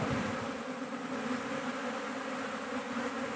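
A swarm of honeybees buzzes in a steady, dense drone, continuous and fairly close, with no voices over it.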